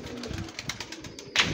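Pigeons cooing in a loft, a few soft low coos repeating near the listener, with a brighter burst of bird noise near the end.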